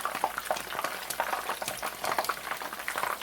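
Food sizzles and crackles steadily in a hot pan just after being flipped for a gluten-free meal, a continuous, fairly close frying hiss with popping bursts throughout.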